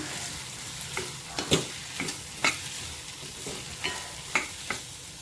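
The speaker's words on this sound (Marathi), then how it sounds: "शिजवलेले बटाटे टाकले तर त्याच्यावरच कोथिंबीर टाकते हे सर्व मिक्स करून घ्यायचे" Boiled potatoes and coriander stirred in a frying pan, a low continuous sizzle broken by repeated short scraping taps of the spoon, close and quiet with no talk.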